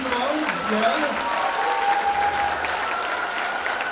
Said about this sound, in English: how about a real quick round of applause for our fifth graders, first of all?